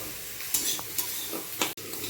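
Dal lentils fry in a pan with a soft, steady sizzle, broken by a few sharp scrapes of a spoon stirring against the metal, close up.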